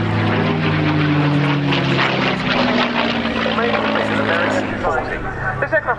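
An aircraft with an Allison V-1710 engine flies over at an air show, its propeller engine droning loudly and steadily before fading slightly, while an announcer talks over the public address.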